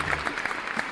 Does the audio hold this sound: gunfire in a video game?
no